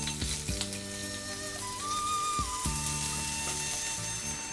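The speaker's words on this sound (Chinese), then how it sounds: "我们把这牛肉片、肥牛片煎一下" Thin slices of fatty beef fry in a little oil in a tagine over medium-low heat, giving a steady close sizzle with occasional crackles and a few clinks of a utensil, without talk.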